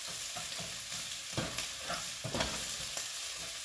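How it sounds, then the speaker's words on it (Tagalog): Garlic sautéing in a pan, a whole head's worth, giving a soft steady sizzle with occasional scraping stirs, fairly quiet and with no talking. "Ngayon, saka tayo maggisa ng bawang."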